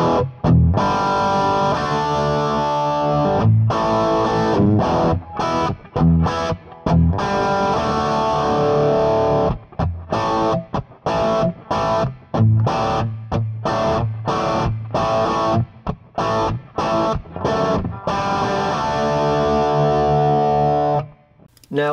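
A heavily overdriven electric guitar plays dense, gritty chords and riffs through a cranked Twin amp pushed by a Tube Screamer pedal, loud, with brief choppy breaks throughout.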